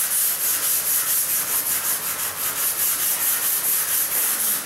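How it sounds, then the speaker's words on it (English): A metal steel wire brush scrubs black tar mastic left from old glued-down flooring, a loud continuous rhythmic rasping of quick back-and-forth strokes. "Got my metal steel brush. Just going to loosen up the black nasty tar substance."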